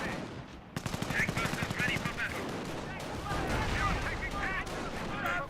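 Small arms and machine gun fire in the World War II strategy game Company of Heroes, rapid overlapping bursts of shots with distant booms, dense and continuous throughout with a voice talking over it.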